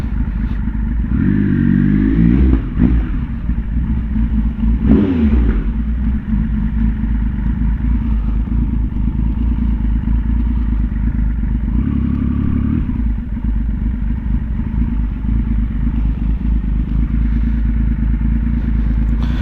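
Motorcycle riding past Harley-Davidson and BMW bikes, its engine droning steadily and close with a brief rev and clatter early on, continuing at a low rumble as it pulls in.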